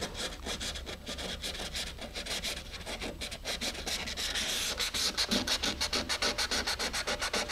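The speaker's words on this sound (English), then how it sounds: "for that I just got a regular piece of sandpaper so I can get in there" Hand sanding fiberglass rocket fillet corners with a plain piece of sandpaper: rapid rhythmic back-and-forth rasping strokes, close up and getting louder and faster toward the end, with no talking.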